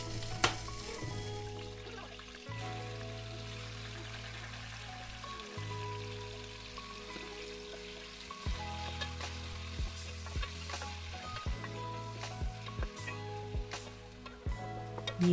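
Meat fries in hot oil in a Kazakh cauldron (kazan), a steady crackling sizzle running the whole time with clinks and scrapes of stirring breaking through, fairly close and with no voices.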